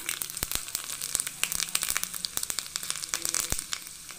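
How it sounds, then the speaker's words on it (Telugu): Tempering spices crackle and spit in hot oil for a buttermilk rasam, a dense run of sharp pops and sizzling bursts, close and steady throughout with no talking. "మనకి ఆయిల్ హీట్ అయిందండి, మనం పోపు దినుసులు యాడ్ చేసుకుందాం"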